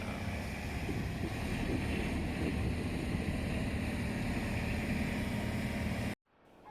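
Steady low rumble of a large car ferry's engine crossing a river to Arraial d'Ajuda, Brazil, with constant wind and water noise, continuous and fairly loud, cutting off abruptly near the end.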